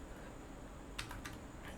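Faint keystrokes on a computer keyboard come as a short cluster of clicks over a quiet room hum, with one last sharper tap.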